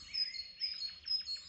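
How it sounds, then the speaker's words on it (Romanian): Small birds singing faintly outdoors at a fishing spot, a few thin high chirps repeating over a quiet background. "ce cântă păsărelele astea mai rar"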